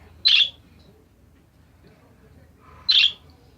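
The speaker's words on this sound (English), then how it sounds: "Kiwi, can you stop chirping in my ear?" A pet bird gives two sharp, loud squawking chirps about two and a half seconds apart, very close to the microphone, with near silence between.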